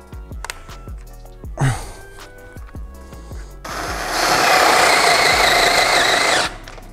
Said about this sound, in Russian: пробуем на Форстнера на 10-м патрончике